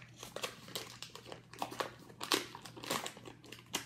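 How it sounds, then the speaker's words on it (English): Paper wrapper being peeled off a stick of butter in a kitchen, a soft close crinkling and rustling that continues steadily at low level with no talking. "you're gonna need to do is have one stick of butter. Go ahead and peel that off."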